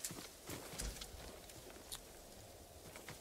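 A horse's hooves clip-clop in a short, faint walking rhythm in a video game, a few scattered hoof falls over a low background.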